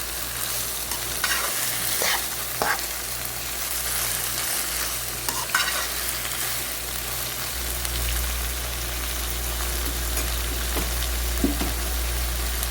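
Chicken chow mein stir-frying in a hot pan with soy and oyster sauce, a steady close sizzle broken by repeated scraping stirs and light clatter of the utensil.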